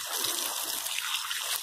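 Running tap water rinses leafy vegetables after a bleach soak, a short close trickling and splashing stream that stays steady and fairly quiet.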